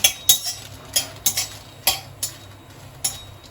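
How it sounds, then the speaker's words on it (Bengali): Five dried red chillies fry in a hot kadai, heard as a soft sizzle under a series of sharp scraping and stirring clinks of a spatula against the pan, about seven separate strokes. "সবার প্রথমে আমি 5টা লঙ্কা ভেজে নিচ্ছি, শুকনো লঙ্কা।"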